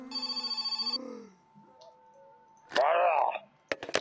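A telephone rings in the game My Summer Car, one short buzzy electronic ring burst at the start, then quiet, a loud warbling sound, and a few sharp clicks.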